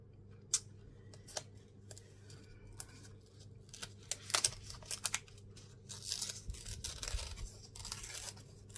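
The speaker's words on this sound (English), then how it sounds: "I tear it apart" Paper is torn apart by hand in a quiet room, heard as a series of sharp, faint rips and crinkles spaced irregularly, growing into a longer rustling tear toward the end.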